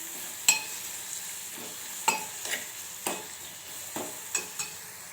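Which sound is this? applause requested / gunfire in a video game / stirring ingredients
stirring ingredients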